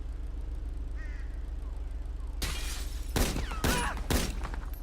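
Vintage pistol fired in GTA 5: four loud, sharp broadband shots in quick succession in the second half, over a steady low game ambience that runs through the earlier quiet stretch.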